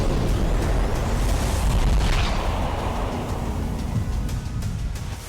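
A deep, rumbling blast from an explosion in wartime Ukraine rolls through dense noise and fades slowly, like a distant explosion, with faint crackling pops afterward.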